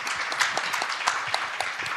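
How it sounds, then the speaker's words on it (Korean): A Korean policy forum audience gives a round of applause for a government policy director: moderate, scattered clapping with distinct individual claps, fairly close and steady for a couple of seconds. "여러분 박수 한번 크게 부탁드리겠습니다"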